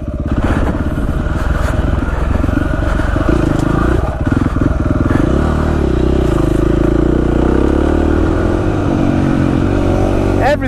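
A KTM 450 SX-F dirt bike engine roars loud and close throughout a ride, a dense continuous rumble with clattering and shifts in pitch as it accelerates.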